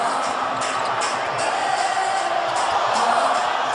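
Sellout basketball arena crowd roars and cheers steadily at a Jeremy Lin game, a dense, loud wash of voices with scattered whoops rising throughout.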